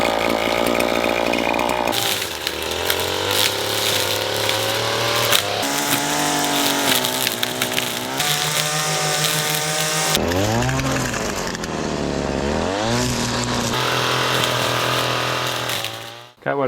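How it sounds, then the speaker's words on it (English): A string trimmer's two-stroke engine whines close up while cutting brush, its pitch repeatedly revving up and dropping as it bites into growth, loud and continuous for over fifteen seconds before cutting off abruptly. "Got what I could with the string trimmer, loppers."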